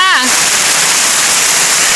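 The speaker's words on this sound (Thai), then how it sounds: "ฝนแรกปีหกหกค่ะตกแหงสาใจยั่ว" Dense, steady hiss of heavy rain, the first rain of 2023 in Thailand, pouring down loud and continuous, with a brief voice at the very start.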